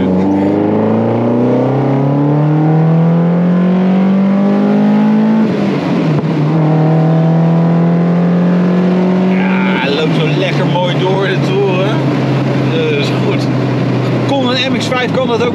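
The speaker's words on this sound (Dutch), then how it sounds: "Maar lekker ruig motorblokje zo." A Mazda MX-5 NC with a BBR GTI 225 engine conversion, heard from the cabin as its engine revs and shifts through rising and falling pitch sweeps, loud and rough, with speech over part of it.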